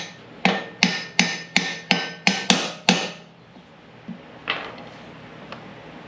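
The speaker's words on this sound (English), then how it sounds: "I'm gonna tap this back in. I don't like tapping on the flywheel" A hammer taps a flywheel key back into a discarded lawn mower's flywheel: about eight crisp, evenly spaced metallic knocks close by, then a couple of softer taps after a pause.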